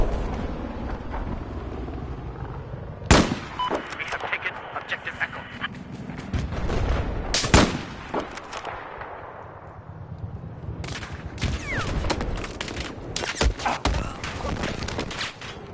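AN94 assault rifle gunfire in Battlefield 4, with sharp loud bursts around three and seven seconds and denser firing later, plus game clatter and voices between the shots.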